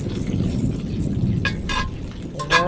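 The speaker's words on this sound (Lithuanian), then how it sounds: "jau vėjas pučia labai smarkus" Strong wind blows outdoors on a hot summer evening as a storm rises. It is a loud, steady, low roar buffeting close by, with a few brief gusts.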